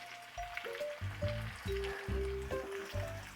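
Meat fries in a stir-fry pan, a close, steady sizzle that swells and pulses over a few seconds, joined by low, stepped tonal hums.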